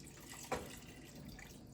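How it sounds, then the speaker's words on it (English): Water pours into a pot of beef stew with a brief close splash, then a faint steady trickle, quiet and alone. "Put the water in there."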